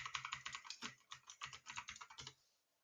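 Rapid, steady keystrokes on a computer keyboard, close and fairly quiet, typed in quick bursts before stopping into silence.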